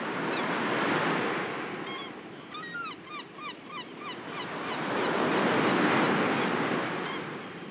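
Sea waves wash in and recede in broad surging swells of noise, with a cluster of honking bird calls cutting through in the middle of the steady surf.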